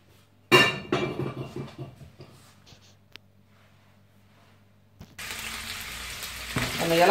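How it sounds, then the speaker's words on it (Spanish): Garlic, small chilies and shrimp hit hot oil in a pan with a sudden loud sizzle that fades, a few utensil clinks, then a second burst of frying that stays strong. "Vamos a dorar un poquito el ajo"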